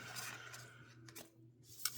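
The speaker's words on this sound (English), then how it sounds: "I just started shuffling and cards came out" Tarot cards are shuffled in brief papery riffles and soft rubbing swipes, faint and close, with a couple of short slapping flicks toward the end.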